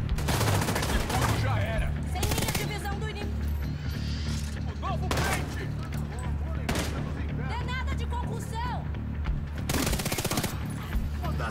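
Heavy automatic gunfire and scattered shots in The Division 2, loud bursts recurring through the fight, with someone talking over the combat.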